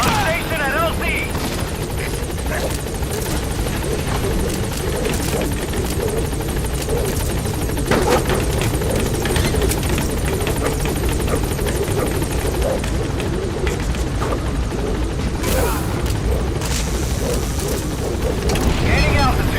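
Helicopter in Metal Gear Solid V: The Phantom Pain climbing away from a landing zone, a loud, steady rotor and turbine roar filling the whole stretch, with radio-style voices over it.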